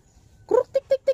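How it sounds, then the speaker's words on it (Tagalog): Chickens cluck in a short series: one louder squawk followed by three quick, evenly spaced clucks, close and clear over a quiet background. "hindi marunong tawagin tong mga manok na ito"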